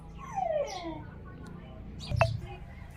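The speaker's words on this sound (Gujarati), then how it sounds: "કૂતરો બોલે છે" A nearby dog gives a couple of short, whiny yelps, with a brief pause between them, over a quiet outdoor background.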